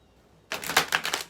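A quick riffle shuffle of oracle and tarot cards, a short crisp burst of rapid flicking after a brief near-silent pause, close and fairly loud.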